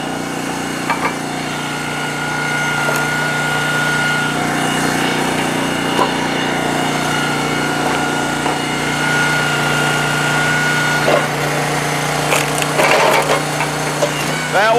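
Hydraulic log splitter with a small engine droning steadily as it pushes through wood, the hum bogging and recovering, with creaks and a cracking split near the end.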